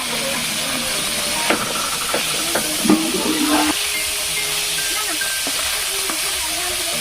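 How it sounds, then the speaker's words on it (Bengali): Fish pieces fry in hot mustard oil in a wok (kadai), a strong, steady sizzle and hiss with a few brief clatters and bubbling bursts partway through. "কড়াইয়ে সরষের তেল দিয়ে দিচ্ছি, তেলটা গরম হয়ে গেছে, মাছটি অল্প অল্প করে দিয়ে দিচ্ছি"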